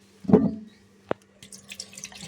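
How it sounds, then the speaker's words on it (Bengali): Lentils are rinsed with water in a kitchen, a brief close splash and slosh, then a single sharp drip or tap and faint scattered trickles afterward. "একটু হালকা করে ধুয়ে নিই"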